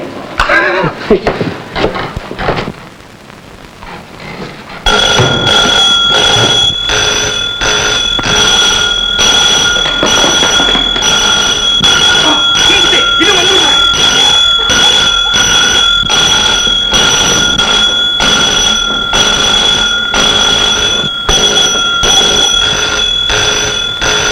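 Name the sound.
alarm bell ringing by itself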